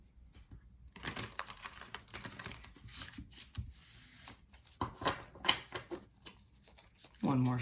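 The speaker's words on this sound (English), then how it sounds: "let's continue by doing some shuffling" Tarot cards being shuffled by hand, a series of crisp riffling and tapping bursts that start after a second of quiet and come in uneven clusters, ending with a brief voice.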